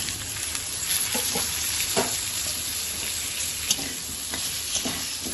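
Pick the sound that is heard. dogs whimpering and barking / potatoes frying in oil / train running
potatoes frying in oil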